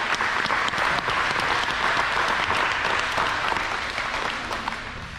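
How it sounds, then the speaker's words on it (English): A crowd claps steadily after a pig camp session where young handlers showed their pigs, the sustained applause dense and fairly loud, easing slightly toward the end. "Round of applause"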